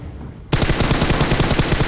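A DP machine gun in a video game opens up after a short quiet lead-in, firing a loud, sustained rapid burst of shots in a steady staccato rhythm that continues to the end.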